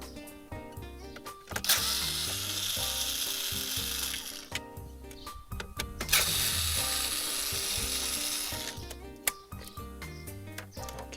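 A ratcheting tool clicks rapidly in two long bursts with short pauses while removing screws from a VW or Skoda car navigation unit, close up and with no talking.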